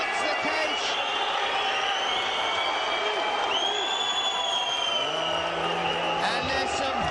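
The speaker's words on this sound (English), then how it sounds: "big excitement there from the crowd here in Antalya, Turkey" Crowd noise swells through a caged MMA fight in Antalya, Turkey, a steady roar of excited spectators rising under constant commentary and arena din.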